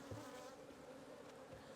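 Honeybees hum steadily on the hive comb, a close, low and continuous drone with faint shifting tones and no talk over it.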